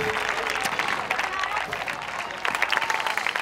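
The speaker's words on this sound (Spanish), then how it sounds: "Un montón de aplausos para esta gente que nos ha dado los productos Churruca." Audience applause at a live show in Riba-roja de Túria: a dense, steady crowd of clapping hands that keeps going the whole time, mixed with voices and cheering from the room.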